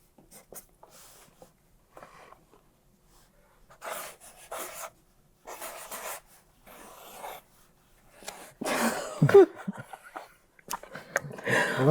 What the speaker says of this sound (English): I heard the pencil scratches and yours was longer